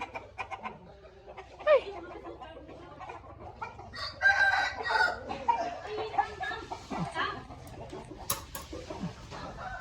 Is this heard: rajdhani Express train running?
no